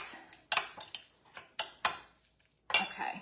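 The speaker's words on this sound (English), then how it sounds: "we're gonna add the veggies together. And we're just gonna give this a little mix" A spoon clinks and scrapes against a bowl while spinach and mushroom veggies are mixed, several sharp separate strikes spaced irregularly with quiet gaps, close and fairly soft.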